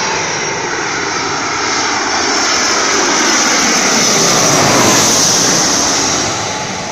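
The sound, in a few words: airplane landing, engine noise over waves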